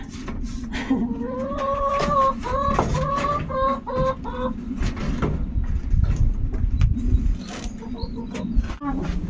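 Chickens cluck in a quick series of short, rising calls over a steady low rumble of background noise, then fall quieter near the end.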